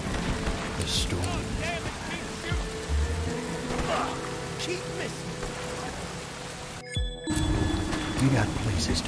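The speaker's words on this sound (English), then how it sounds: "The storm." Steady rain and storm noise in the video game Desperados 3, a constant hiss of falling rain under game dialogue, briefly cut out before resuming.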